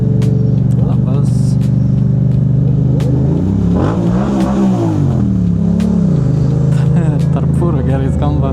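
A Yamaha MT-07 motorcycle idles close by at a rider meetup in Kaunas, parked between trucks. Its steady rumble is broken by a couple of quick revs in the middle, and voices can be heard nearby.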